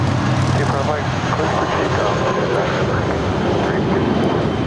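An American Airlines Airbus takes off from runway 25 right at Los Angeles International Airport, its engines a loud, steady, broadband roar that holds without a break from start to finish.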